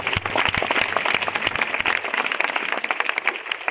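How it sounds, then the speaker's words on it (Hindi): Loud applause from a seminar audience at a business anniversary event, dense clapping starting strong and tapering slightly over a few seconds, with no voices over it. "एक बार आपके लिए जोरदार ताली होना चाहिए।"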